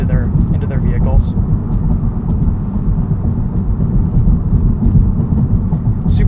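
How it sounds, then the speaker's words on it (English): Cabin of a 2023 Honda Civic Type R on a rough, bumpy road: a dense, steady low rumble of tyres and suspension thuds fills the interior, with a few faint knocks, loud and continuous throughout. "Super bumpy road here."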